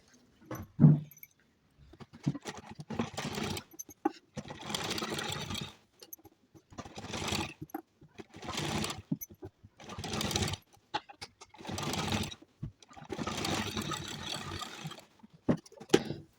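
A sewing machine stitching the neckline of a simple kurti runs in repeated short bursts of rapid mechanical whirring, separated by brief pauses, close and clear.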